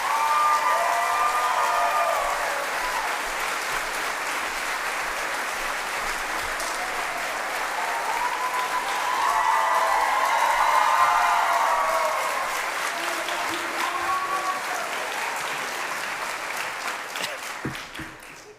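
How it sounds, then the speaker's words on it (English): Sustained applause from a convocation audience welcoming a guest speaker, steady and full for over fifteen seconds with a swell in the middle, then tapering off. "Now let's hear a round of applause for the man who traveled all the way from Colorado to speak to us today, Mr. Toms."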